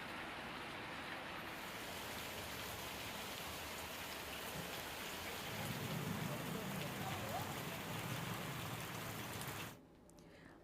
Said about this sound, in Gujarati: શંકરપુરા, ધર્મીપુરી, વડજમાં પણ ભારે વરસાદ પડ્યો